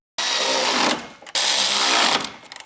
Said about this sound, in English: With a 3/8 drill bit and drill a hole into the frame.